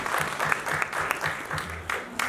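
An audience at a mushaira poetry gathering in Ealing Town Hall, London, claps in a dense, sustained round of applause filling the hall, with a few louder individual claps standing out.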